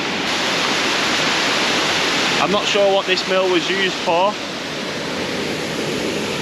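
A loud waterfall at the ruins of Ashworth Mill, a constant, close, roaring rush of falling water that fills the whole clip, with someone speaking briefly over it midway.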